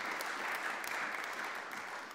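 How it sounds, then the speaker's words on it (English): The public gallery of the Scottish Parliament applauds after a debate speech, a steady, moderate clapping that fills the whole moment with no talk over it. "we do not permit applause in the gallery"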